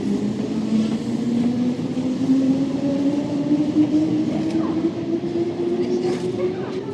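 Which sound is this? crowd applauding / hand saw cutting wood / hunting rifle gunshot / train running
train running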